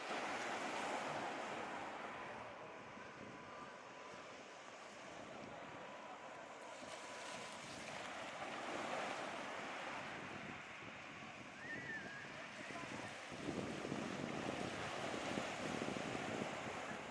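Waves roll onto a beach at sunset, a quiet, steady surf wash with some wind noise on the microphone, distant and unbroken throughout.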